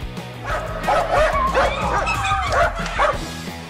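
A small dog yaps and yips excitedly at a zoo monkey, its rapid high barks mixed with whimpers in a quick, continuous, close-up burst, with no voices heard.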